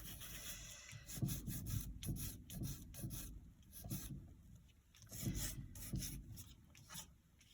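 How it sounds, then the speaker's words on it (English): Sandpaper rubbing over a distressed vintage paper page, soft rasping strokes repeated in a steady back-and-forth rhythm, close and fairly quiet with no talk. "just sand that a little bit down as well"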